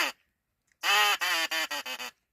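A hunter's duck call lure blown to imitate a duck: one short quack, a pause, then a long, loud, nasal quack followed by four shorter quacks in a steady descending run, close and clear.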